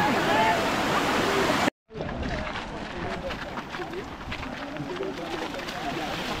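A waterfall roars in a steady broadband rush during a monsoon-rain picnic outing. A brief dropout interrupts it, and a voice talks over the water after the break.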